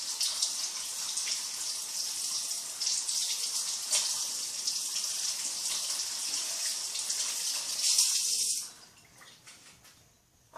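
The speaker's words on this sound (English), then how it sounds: "I need to wash my hands, so I'll be right back." A tap runs steadily as hands are washed at a sink, a loud continuous hiss of water that stops abruptly near the end, leaving faint drips and quiet.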